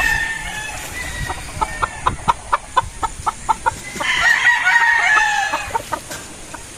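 Red gamefowl roosters and battle stags in a yard, several loud close crows and a rapid run of rhythmic clucks, with more crowing overlapping, no one speaking.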